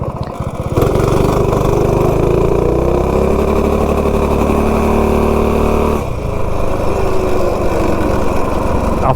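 A budget mini bike engine revs hard and loud from a standstill on a 0 to 30 run, its buzzing drone climbing steadily before easing off and carrying on at a slightly lower level.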